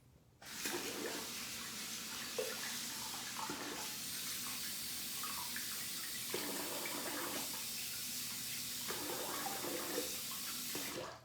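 Tap water runs steadily into a sink, a close, continuous splashing rush for washing the face that lasts the whole stretch, with slight shifts in tone as hands move through the stream.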